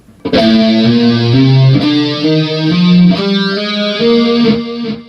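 An electric guitar plays a quick lick of legato notes with a distorted, chorused tone, each picked note flowing into softer hammered follow-ups.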